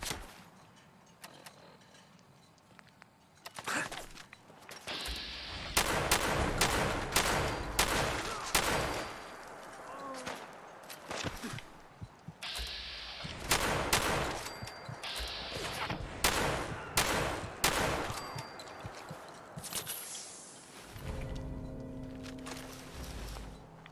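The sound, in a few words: gunfire fighting a legendary enemy in video game Fallout 4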